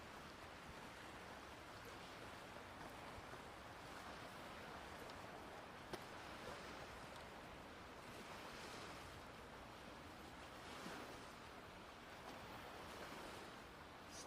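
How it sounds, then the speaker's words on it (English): Waves crash continuously against the Stanley Park seawall in Vancouver, BC, making a steady broadband wash of surf with light wind noise. It sounds fairly distant and even in level throughout, with nobody speaking. "Sounds of waves crashing."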